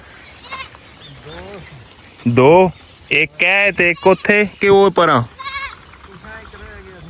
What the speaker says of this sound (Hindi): ये हमारे भाई दुर्कनैन की बकरियां हैं